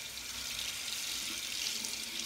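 Tap water runs steadily into a sink to rinse a King C. Gillette DE razor between shaving passes, a constant close hiss and splash with no talk.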